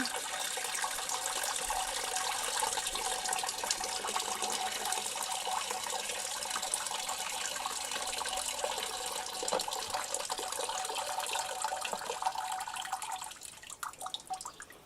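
Water pours and trickles steadily out of a lidded container while biochar is charged, a continuous splashing stream that thins and breaks into drips near the end.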